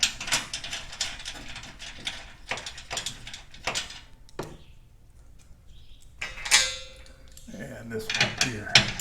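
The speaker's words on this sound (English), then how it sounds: "I'll start by removing these two bolts over here." Ratchet loosening bolts on a garage door torsion spring assembly, with repeated quick metallic clicks in bursts, occasional clanks and short pauses, recorded close up in a quiet garage.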